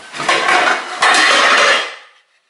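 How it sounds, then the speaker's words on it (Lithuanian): Cooking pots, bowls and utensils are clattered and shuffled in a kitchen, two bursts of close, loud metallic rattling that fade out near the end, with no talk. "šičia yra mano įrankiai, puodai, dubenėliai"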